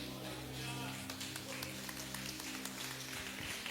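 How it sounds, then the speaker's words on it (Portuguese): Church congregation clapping during a worship service, soft dense applause at a distance over a steady low musical hum, with no speech on top. "Dê uma salva de palmas ao Senhor."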